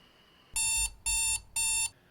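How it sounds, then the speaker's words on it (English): An alarm clock going off: three evenly spaced, loud electronic beep bursts, each lasting about a third of a second with short gaps between, close and alone with no talk. "the beautiful sound of your alarm going off"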